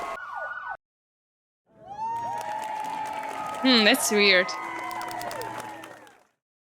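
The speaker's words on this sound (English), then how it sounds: "Oh wait, that's cheering." Crowd cheering and applause in a video game swells in the background while a nearby voice talks over it, with a brief louder burst in the middle.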